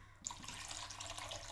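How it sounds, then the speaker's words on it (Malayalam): Water poured into a pot of fish curry, a brief steady splashing stream running alone at low volume. "ഇനി ആവശ്യത്തിന് വെള്ളം ഒഴിച്ച്"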